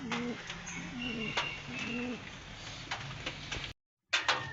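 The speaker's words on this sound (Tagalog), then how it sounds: "Ayan yung mga ibon natin" Racing pigeons cooing close by in repeated soft, rolling calls, with some clattering and rustling, then a brief cut in the sound.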